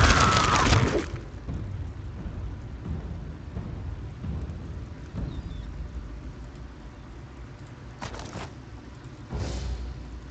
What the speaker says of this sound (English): Oh, she threw thunder at me.